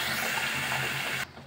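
Water is poured into a cauliflower curry paste for kulambu as a brief, steady gushing splash, close and fairly loud, stopping abruptly near the end.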